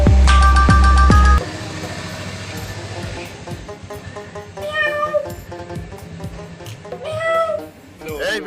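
A kitten meows twice, as two short, clear, fairly close cries a couple of seconds apart, with people talking around it after a loud tonal burst at the start.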